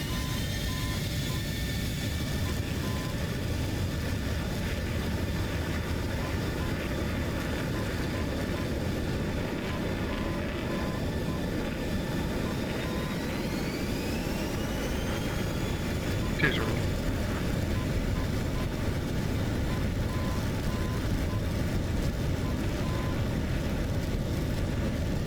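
An F-16 Falcon fighter jet rolls for takeoff, a loud steady engine roar with a rising whine, under constant cockpit hiss and radio-style noise.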